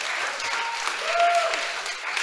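An audience applauds, a dense steady wash of clapping that swells slightly midway and carries on throughout.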